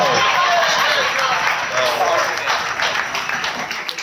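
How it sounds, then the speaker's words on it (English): Wedding guests applaud during the reception speeches, a steady wash of clapping from a room full of people that thins slightly as it goes on. "if you could put your hands together and give a big round of applause for the father of the groom, Keith Jenkins"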